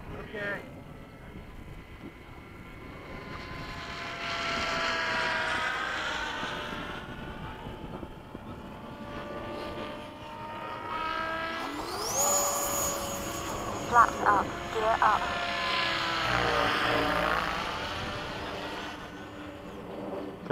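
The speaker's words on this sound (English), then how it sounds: "Touch and go from the right." The engine of a small Hawk aircraft drones through a touch-and-go landing at Bayside, heard from inside the cabin as a steady hum that swells and shifts in pitch, with brief pilot radio talk and clicks partway through.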